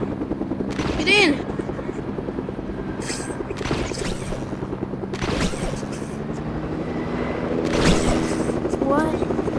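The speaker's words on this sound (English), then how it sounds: "Who wants to ride in my helicopter?" A helicopter in the video game Fortnite drones steadily throughout, a low rotor hum under players talking, with brief bursts of gunfire breaking in now and then.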